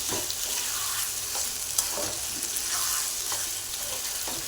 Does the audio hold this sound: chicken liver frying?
yes